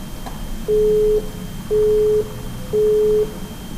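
Telephone busy signal after a disconnected call: three evenly spaced steady beeps, each about half a second long, with short pauses between them, clear and alone.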